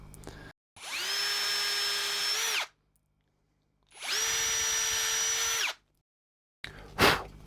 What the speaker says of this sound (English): Drill down, and then when we screw that together, this won't split.